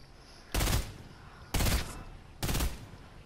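Three sharp bursts of gunfire from the video game Fortnite crack out about a second apart, each a short loud rattle over a quiet background with no talk.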